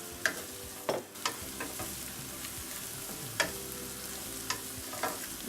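Bacon tossed into a pan of sautéing cauliflower, a continuous close sizzle with a burst as it lands and repeated stirring scrapes and knocks, no voices.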